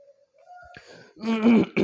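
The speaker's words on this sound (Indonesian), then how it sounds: "agak batuk dikit" A man who smokes heavily clears his throat and coughs a little, a few rough, throaty bursts that grow louder toward the end.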